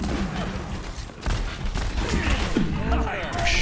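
Shotgun blasts and other shots in a video game pop through busy game noise, with a voice talking over the clip.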